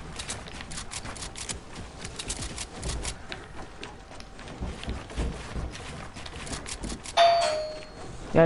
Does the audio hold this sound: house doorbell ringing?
yes